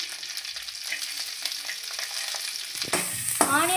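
Onions and curry leaves sautéing in a pan, a steady close sizzle with scattered stirring scrapes, and a brighter burst of hissing toward the end.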